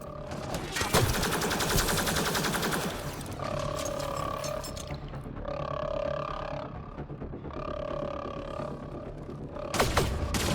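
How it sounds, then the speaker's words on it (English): A gunfight in the video game Mass Effect Andromeda, fought in a gun battery: bursts of weapon fire and mechanical, whining sci-fi effects with repeated tonal pulses, loud and continuous with a sharp blast near the end. "It's a gunfight in the gun battery then."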